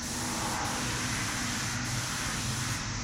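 A spray gun lays down Cerakote coating on a Glock pistol with one continuous, close, broadband hiss that stays loud and even throughout, with no voices.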